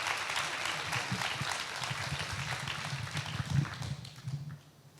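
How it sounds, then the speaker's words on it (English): An audience at a museum of American art applauds an art panel, a full round of dense clapping with some murmuring and a low rumble beneath, fading away near the end. "let's give it a good round of applause for our incredible panel"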